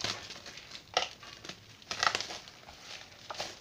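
Scrapbooking binders bought at Rita Rita being unwrapped: bursts of crinkling, crackling plastic packaging come in uneven clusters, close and moderately loud, with quiet gaps between handlings.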